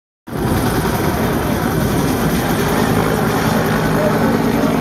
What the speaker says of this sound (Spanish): En el helicóptero tirando agua